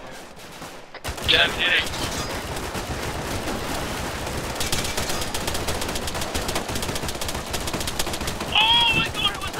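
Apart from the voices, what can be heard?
gunfire in the video game Arma 3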